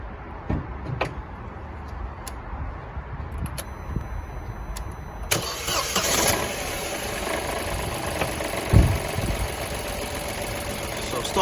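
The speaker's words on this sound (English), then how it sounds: "So I'm going to use this power pack. So I'm going to go ahead and start that up." A car with a faulty battery cranks and catches on a jump starter power pack, a loud broadband burst near the middle that settles into a steady idle, with scattered clicks and faint handling noises before it.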